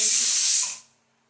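A pressure cooker holding lentils lets out a loud, close burst of steam hiss that holds steady for over half a second, then fades quickly into silence.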